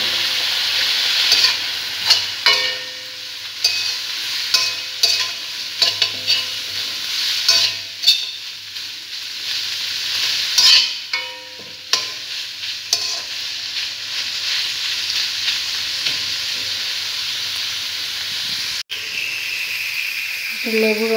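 Chicken frying in a pan with turmeric and salt, stirred now and then: a continuous bright sizzle broken by irregular scraping and clanking of the spatula, with a brief faint voice partway through.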